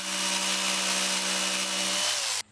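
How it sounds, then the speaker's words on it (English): A power jigsaw buzzes steadily through wood, cutting out a circle, for over two seconds, loud and close, then cuts off abruptly. "I used a jigsaw to cut out the circle"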